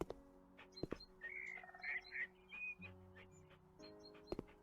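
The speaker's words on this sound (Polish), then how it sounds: "Pies mi tu przeszkadza." Dog in the House Flipper video game, a few short yelps and whimpering whines with a brief sharp bark, set over faint in-game background tones, moderately quiet and sounding alone without talk.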